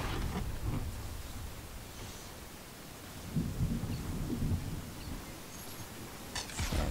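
Rumbling thunder and steady rain from a storm in the Fortnite video game, with low booming swells rolling under a constant wash of rain-like noise, fairly faint throughout and without talk.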